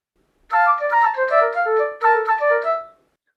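A flute and a clarinet trade quick notes back and forth, weaving one fast melodic line in two short phrases, clear and close with no talking.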